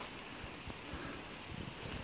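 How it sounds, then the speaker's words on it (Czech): Rain beginning to fall in a forest at Skalsko in Czechia, with a steady soft hiss of light drops pattering on leaves and scattered closer taps, no voices. "momentálně tady začíná pršet"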